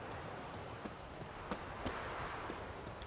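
Horse hooves clip-clop steadily at a trot while riding in The Witcher 3, a continuous close rhythm of hoof strikes over a low ambient bed, with no talking.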